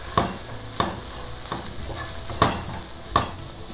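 Kabsa masala, coriander powder and ground black pepper get mixed in a pan with a spatula. Five evenly spaced, sharp scraping strokes sound up close over a soft background sizzle, with no voices.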